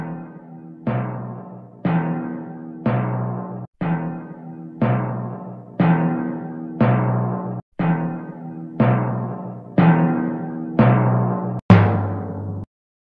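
Hand drumming on a big round belly: about a dozen evenly spaced resonant thumps, each a hollow low tone that rings briefly before the next, close and fairly loud with no talk.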